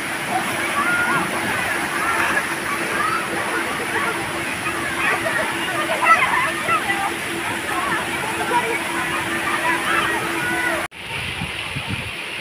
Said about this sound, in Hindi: ऊपर जो बड़ी वाली बाल्टी है वो अभी पानी नीचे गिराएगी